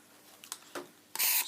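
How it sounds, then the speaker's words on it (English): Short bursts from a can of silicone spray, a couple of quiet hisses followed by a louder, longer spray, close and alone. "Very short spray."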